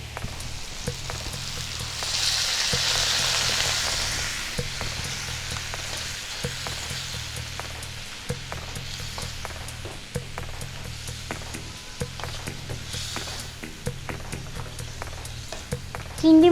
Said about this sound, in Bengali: এবার পরিমাণ মতন জল দিয়ে দেব।